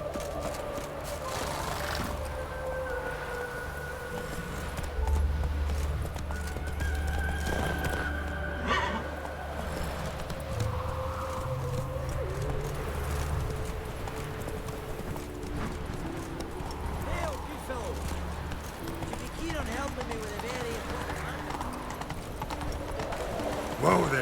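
Roach, a horse in The Witcher 3, gallops with a steady clip-clop of hooves alongside neighing, under a bed of game ambience and music, while voices talk over much of it.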